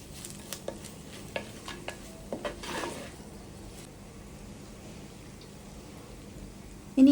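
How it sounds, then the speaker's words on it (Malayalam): Chili powder, garam masala and coriander powder sauté in a pan for a traditional Kerala chicken dish: soft sizzling under a series of sharp spoon scrapes and taps, then a quieter stretch and a sudden loud clatter at the end. "പൊടികളൊക്കെ നന്നായിട്ടൊന്ന് വഴറ്റിയെടുക്കണം"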